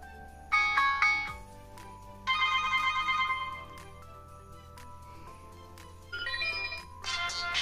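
A Wish Mate 33 Pro phone plays a ringtone, a series of short chiming melodic bursts separated by quieter gaps over a low hum. The tones are fairly soft and thin.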